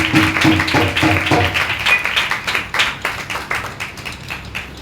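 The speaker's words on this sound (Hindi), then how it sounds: "ताली बजाओ" Hand clapping from a congregation at a Hindi-language Sunday church service, a run of sharp irregular claps that are close and loud, thickening into a brief patter before tapering off.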